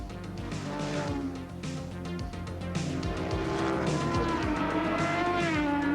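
Racing motorcycles roar past at the 1987 Wanganui street race, with engines revving loudly and shifting pitch as the bikes accelerate and pass, a dense, continuous howl from close beside the course.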